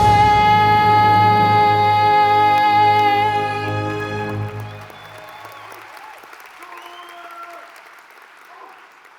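At a swearing-in ceremony, a held sustained final note of the national anthem rings out over building applause, then the music cuts off around five seconds and the crowd keeps clapping and cheering on its own.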